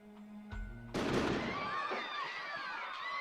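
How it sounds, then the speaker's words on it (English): A gunshot in the video game Code: Realize: a single sharp, loud bang cracks out of a quiet tonal backdrop, then rings into a shimmering, fading tail. "That was a gunshot blast."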